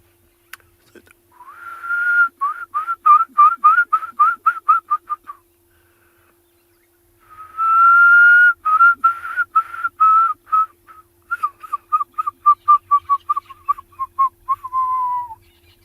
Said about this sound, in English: That's a fish eagle.